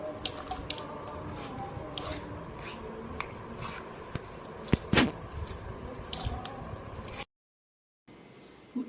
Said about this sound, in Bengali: এবার এগুলিকে একটা বটিতে সুন্দরভাবে কেটে নেব।